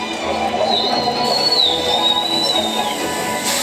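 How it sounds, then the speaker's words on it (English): Orca whistles at a SeaWorld San Diego show: a thin, rising and gliding high-pitched whistle drawn out for about two seconds, sitting over a steady wash of crowd and pool noise. "Whistles to socialize in the pod."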